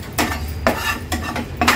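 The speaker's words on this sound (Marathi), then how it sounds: "ते पण व्यवस्थित आपण परतून घेणार आहोत" Coriander seeds and cumin roasted in a pan over a low flame, stirred with a utensil: four distinct scraping, rattling strokes at a steady pace, close and fairly loud, with no talking.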